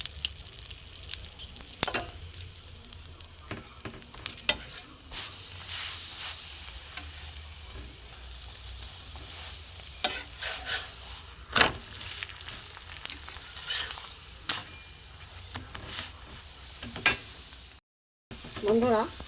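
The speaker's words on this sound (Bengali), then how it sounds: "আমি অল্প তেলে ভাজবো" Paratha shallow-frying in a little oil in a pan, a steady close sizzle running throughout with occasional scrapes and turning clatter, a brief dropout near the end.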